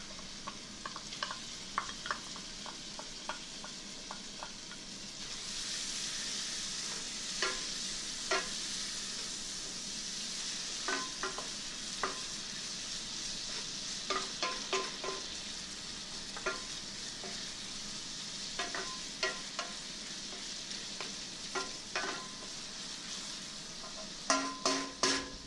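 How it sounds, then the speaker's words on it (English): Pancetta or bacon frying in a pan with golden garlic, rendering its fat for penne alla vodka, with a steady close sizzle and intermittent scraping and stirring clicks, no talking. "you're going to add your pancetta or your bacon, and we're going to render the fat off of it"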